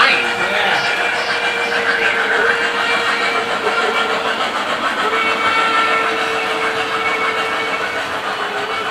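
A steam locomotive whistle sounds loud and steady for several seconds, holding a sustained tone with hissing steam around it.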